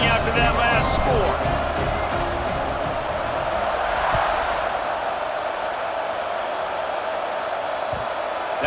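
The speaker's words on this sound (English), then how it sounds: "this crowd is buzzing after that last score" Football stadium crowd at a Notre Dame vs Oregon game roaring steadily after a touchdown, a dense, continuous wall of cheering and chatter heard from the broadcast booth, with a few louder shouts early on.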